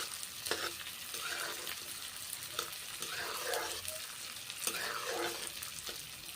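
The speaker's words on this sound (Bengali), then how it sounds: "পাঁচ ফোড়নগুলো মুগের ডাল দিলাম ভেজে নিচ্ছি মুগের ডাল ভেজে নিচ্ছি এখন" Mung dal frying with panch phoron spices in a pan, a continuous crackling sizzle punctuated by stirring scrapes and light clinks, close and fairly quiet.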